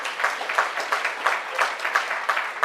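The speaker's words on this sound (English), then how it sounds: "Big round of applause for the JTA in its 60th year." An audience at an award ceremony applauds in a loose, rhythmic round of clapping, moderately loud and continuous for almost three seconds.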